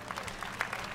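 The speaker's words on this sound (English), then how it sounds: "Let's give them all a round of applause." Audience applause at the EA E3 2018 presentation, a short burst of dense clapping from a large crowd.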